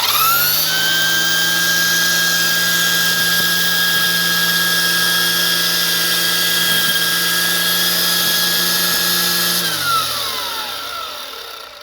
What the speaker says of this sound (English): We're going to start off with the Ryobi just to show you the kind of performance you can get out of a corded unit.